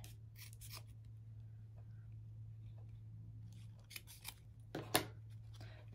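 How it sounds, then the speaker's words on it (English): Scissors snip through material for a handmade primitive snowman, a few soft quick cuts and then a sharper close snip over a low steady hum in a quiet room. "Should have trimmed this down a little bit first."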